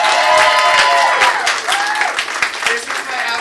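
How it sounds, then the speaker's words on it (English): Audience applause and cheering at an improv comedy student showcase, a dense wash of clapping under loud whoops and voices, with a speaker heard over the crowd. "please clap for Naran for making these shirts"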